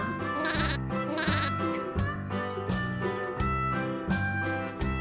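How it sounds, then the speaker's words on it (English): A sheep bleats repeatedly in long, wavering calls, loud and close, with brief gaps between each cry. "The sheep bleats and makes the sound ba."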